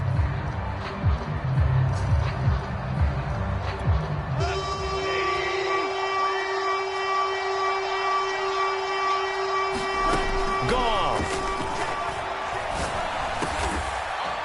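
A referee's whistle in the Madden football video game blows as a shrill, sustained tone over a steady crowd-like background, holding for several seconds before fading into the game ambience.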